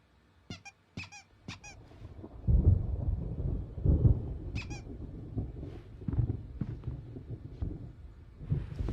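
A thunderstorm in Alan Wake Remastered: low, rolling thunder rumbles in heavy swells under a steady wash of rain, broken early by a few sharp, high squeaks.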